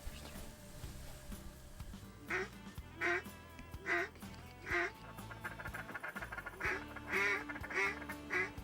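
Ducks quack in a series of short, loud calls, mostly evenly spaced with a quick cluster near the end, over a low background hum, on the Mississippi River during a hunt.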